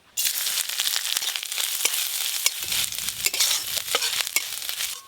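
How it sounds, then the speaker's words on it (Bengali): Shredded coconut fries lightly in a little white oil with a dense, crackling sizzle and scattered pops, steady and close throughout. "অল্প একটু সাদা তেল, এবার নারকেল কুচিগুলো হালকা করে ভেজে নেব।"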